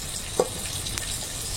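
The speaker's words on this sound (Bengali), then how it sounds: "মাছ ভাজা হচ্ছে" Fish sizzling in a frying pan for a home-cooked fish curry, a short steady hiss with a couple of brief louder crackles, close and without voices.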